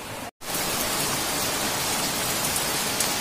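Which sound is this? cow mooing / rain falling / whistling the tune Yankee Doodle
rain falling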